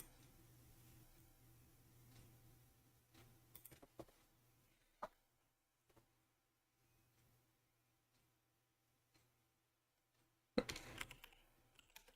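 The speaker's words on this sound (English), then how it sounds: "I was just typing on Discord." A computer keyboard clicks faintly in scattered keystrokes while someone types a chat message, the bursts growing sparse, then ending in a quick flurry near the end.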